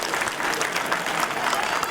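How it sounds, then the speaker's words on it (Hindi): A crowd claps steadily at a public event where a speaker announces road project funding, a dense continuous patter of many hands with no pauses, close and even throughout. "ताली बजाओ।"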